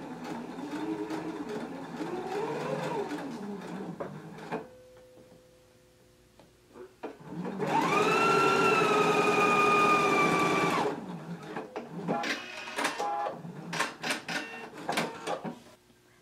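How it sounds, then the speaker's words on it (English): A sewing machine stitches a 5/8 inch sleeve seam on a garment, starting with handling noise and a brief pause, then a loud sustained whirring run of about three seconds followed by clicks and short bursts. "Now I can take it to the machine and we're going to stitch in a 5/8 of an inch seam allowance."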